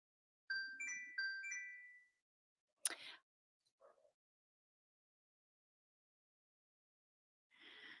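Phone ringtone from an incoming call, a bright two-burst melodic chime heard clearly and alone in a quiet room, followed by brief handling clicks and a soft rustle.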